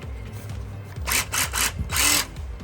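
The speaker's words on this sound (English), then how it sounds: "We use a jigsaw to carefully cut along the marked lines connecting the 4 corner holes." A jigsaw cuts the window opening in a van's wall, with three loud, rapid, rasping bursts over a lower mechanical hum, close to the listener.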